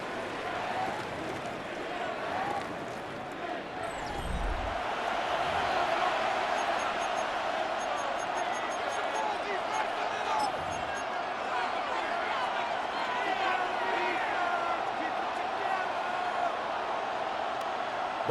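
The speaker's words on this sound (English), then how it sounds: "This crowd into it now as we get to third down." Stadium crowd in an EA Sports NFL football game, Eagles playing, a broad continuous roar building ahead of a third-down snap, steady and loud across the whole stretch, with a commentator's voice talking over it.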